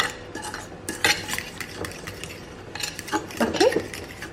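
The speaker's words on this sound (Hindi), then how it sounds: "अच्छी तरह से इसको मिक्स कर दें।" A paste for chicken do pyaza is stirred and mixed with a spoon in a pot, giving irregular clinks and scraping taps against metal that come close and moderately loud. No one speaks.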